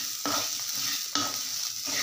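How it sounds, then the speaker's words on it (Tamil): Chana dal and poppy seeds are dry-roasted in a pan. Close, steady scraping and stirring come in rhythmic strokes about once a second over a faint sizzle, with no talk. "இதையும் இதிலையே நல்லா வறுத்துக்கலாம்."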